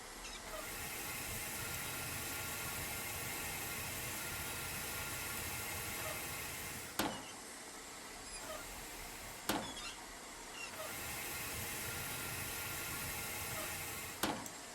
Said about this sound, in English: you will hear the smoke box steam, as well as a fire rumble